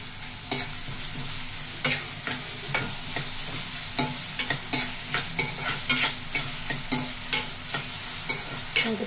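Onions with rock salt frying for a mutton and cucumber curry, stirred with a spoon in steady scraping strokes over a constant low sizzle, the clinks and scrapes repeating roughly every half second.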